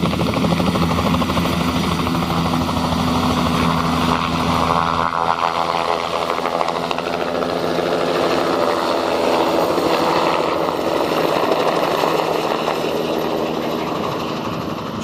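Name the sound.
helicopter in flight over glacier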